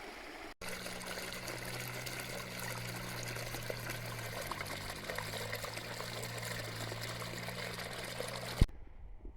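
A rain-fed stream in a forest rushes and trickles steadily at close range, a continuous gentle flow that cuts off abruptly at the end.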